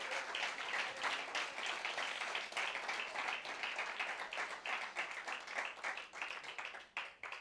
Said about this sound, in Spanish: Dele un fuerte aplauso al Rey que vive por los siglos de los siglos